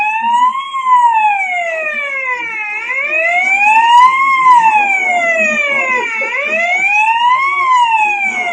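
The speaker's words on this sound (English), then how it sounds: "Alarm." A wailing emergency siren sweeps up and down in long repeated cycles, loud and close, with faint background noise beneath.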